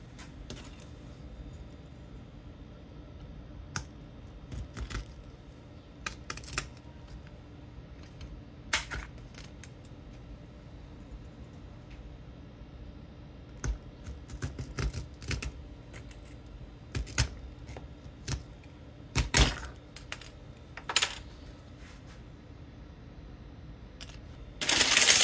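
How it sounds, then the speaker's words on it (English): Tin snips cut the gold fingers off computer RAM sticks: scattered sharp snips and clicks, some in quick clusters, sound close over a quiet room background, with no talking. "We'll just be using a pair of tin snips."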